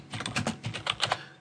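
Quick typing on a computer keyboard while entering text into a music notation program, a fast run of close, crisp key clicks with brief pauses and no voices.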